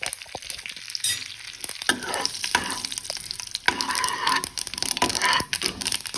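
Cumin, sesame seeds, bay leaf and dried red chillies tempering in about two spoons of hot oil in a kadai, a soft continuous crackling sizzle close by with occasional stirring scrapes and taps.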